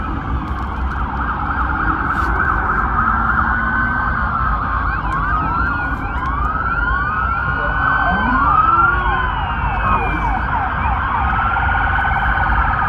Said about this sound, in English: Look at how many police cars showed up.